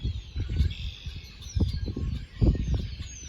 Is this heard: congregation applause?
no